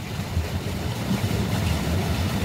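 A village tube well runs steadily with water gushing into a dug earthen channel, a continuous rushing, low rumbling wash that stays loud and even throughout, with no voices.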